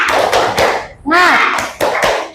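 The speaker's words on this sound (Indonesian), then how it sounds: "Tepuk semangat." Elementary schoolchildren in a fourth-grade class doing a rhythmic spirit clap, with sharp group claps in a patterned beat and a chanted shout in the middle, loud and close.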